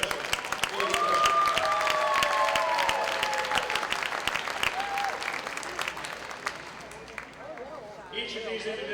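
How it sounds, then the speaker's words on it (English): Applause from a crowd in a gym at a college women's basketball game honors the inaugural hall of fame class, steady clapping for several seconds with a few whoops and sneaker squeaks, tapering off near the end. "I'd like to give them all a big round of applause right now."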